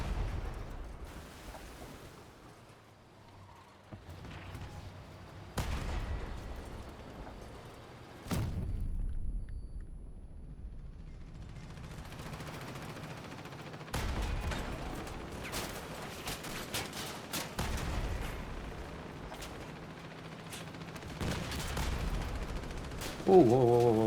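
Vehicle-mounted guns fire in the Crossout video game during a PvP battle, coming as bursts of sharp shots that start and stop between quieter gaps, some louder and closer than others, over steady game ambience.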